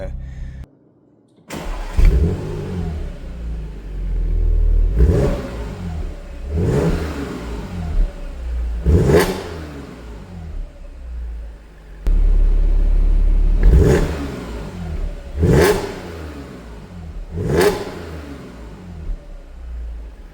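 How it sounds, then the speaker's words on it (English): A 2015 Audi S5 engine idles with a deep exhaust burble, punctuated by several sharp revs that rise and fall back, loud and close. "We'll let the engine warm up and I'll do a small exhaust clip."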